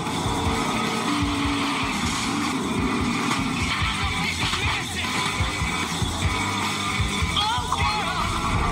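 NASCAR race cars lapping an oval track, a dense continuous roar of engines and tyres, steady and loud throughout with no gaps.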